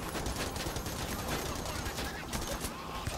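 Gunfire in Payday: The Heist, a dense, continuous rattle of shots layered with busy game noise, fairly loud throughout.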